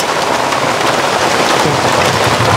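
Steady heavy rain pours down without a break over a busy street food stall, a dense continuous hiss of drops drumming on surfaces close by.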